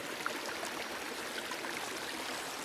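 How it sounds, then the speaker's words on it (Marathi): Irrigation water flowing steadily into a paddy field during rice transplanting in the Sahyadri hills, a continuous broadband rush and trickle with no voices. "हे बघा ना पाणी किती चालू आहे आपलं"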